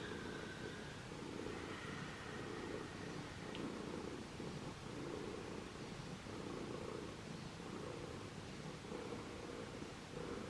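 A domestic cat purring close by, a steady low rumbling drone that runs unbroken and fairly quiet, with faint rustling in a calm indoor room.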